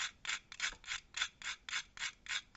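Rhythmic rasping strokes of whole nutmeg being grated, about ten even back-and-forth scrapes, close and quiet.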